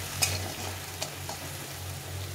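Spices with salt and turmeric sautéing in a pan for a vegetarian taro curry make a soft, continuous sizzle with a few light stirring clicks, quiet and close, with no talking.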